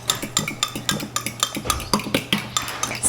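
A spoon scrapes and knocks around a bowl of cornbread batter in a rhythmic series of quick, close clinks and stirring strokes, with no talking.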